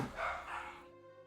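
A short muffled bark or yelp from dogs indoors, quiet and somewhat distant, fading quickly into silence.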